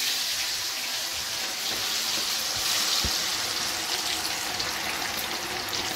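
Marinated chicken pieces for a garlic chicken roast fry in hot oil, giving a steady, fairly quiet sizzle and crackle with soft bubbling throughout.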